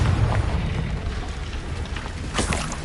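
Explosive spell blasts, Bombarda and Confringo, cast in Hogwarts Legacy: a deep rumbling boom that rolls on, then a sharper burst near the end, loud and with no voices.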